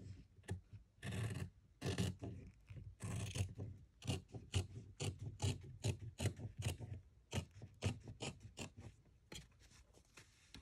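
Fabric being trimmed for a handmade journal cover, a close series of rasping, crunchy cuts in uneven bursts, loud and near with no talking.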